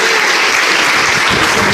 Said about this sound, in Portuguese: Se puder as palmas, louve o Senhor.